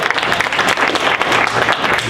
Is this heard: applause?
yes